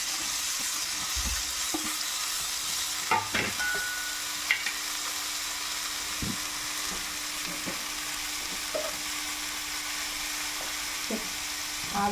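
Ivy gourd, onion and green chili sizzle steadily in hot oil already seasoned with mustard seeds, turmeric and curry leaves, with scattered clicks and scrapes of stirring over a constant close frying hiss.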